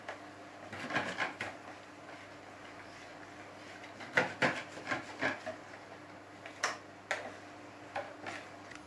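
Palm sugar layer cake batter is stirred in a bowl, giving faint irregular scrapes and light knocks in uneven clusters, close by and without talking.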